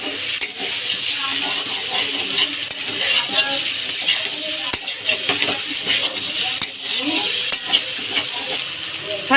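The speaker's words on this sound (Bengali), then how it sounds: "এবার মশলাটাকে ভালো করে কষিয়ে নেওয়া হবে।" Spice paste with turmeric and salt being sautéed in a pan for a vegetarian Bengali aloo dum, giving a loud steady sizzle with repeated scraping and stirring strokes of a spoon against the pan.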